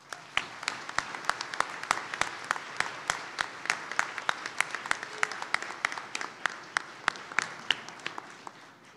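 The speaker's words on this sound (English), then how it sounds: "Let's give them a round of applause." At a fire and EMS awards dinner, sparse, distinct handclaps from a small audience tap out a steady, thin round of applause, fairly faint and even throughout.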